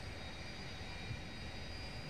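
Twin A-10 jet engines spooling steadily in the Blackhawk Rescue Mission 5 game, a constant, fairly faint broadband roar with a thin high whine and no breaks.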